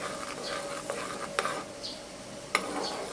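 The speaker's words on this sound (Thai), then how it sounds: "มันเริ่มเดือดแล้วนะคะพอมันเริ่มเดือด เราก็คนช่วยมันนิดนึง" A coffee-and-henna hair dye mixture boils in a pot while a spoon stirs it: quiet, close bubbling with a few light scrapes against the pot's sides.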